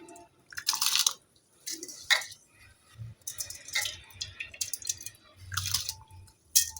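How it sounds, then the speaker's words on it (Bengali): Washed rice tipped into a cooking pot for an Iftar chickpea rice dish, several wet bursts of pouring grains and splashing water with dripping between them, close and intermittent, no talking. "এটা চালটাকেও এখন এর মধ্যে দিয়ে দিচ্ছি।"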